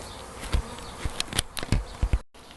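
A honeybee swarm going into a hive, heard as a steady close buzzing with several sharper passes of individual bees flying near, with no voices.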